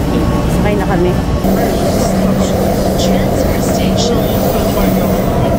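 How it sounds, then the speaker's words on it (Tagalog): A Taipei metro train pulls into a station near Chiang Kai-shek Memorial Hall, a loud continuous rumble with humming motor tones, while a person speaks briefly over the noise. "Dumating na pala yung train."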